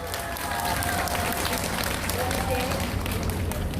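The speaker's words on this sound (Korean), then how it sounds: "박수 한번 해주세요" Loud, dense applause from a crowd at a Korean political lecture or rally, a continuous roar of clapping with crowd noise and some voices underneath throughout.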